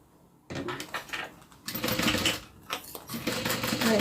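A sewing machine stitches the inside lining of a small leather wallet in close bursts, its rapid mechanical chatter starting and stopping as the fabric is fed through, with no speech.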